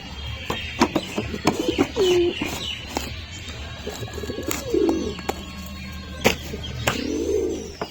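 Fancy pigeons, including lakha pigeons, cooing near their loft, with repeated soft throaty coos and short chirps scattered across the clip, close by, plus occasional wing flaps and faint background voices.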